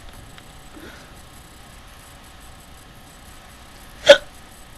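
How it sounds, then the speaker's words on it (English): A single sharp, sudden hiccup near the end, close and clearly audible against a quiet room with faint background noise, no talking. "I'm gonna have to end this video because I have hiccups."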